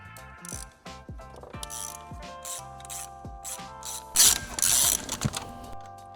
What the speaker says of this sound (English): we are using a spark plug socket. Just go down in there.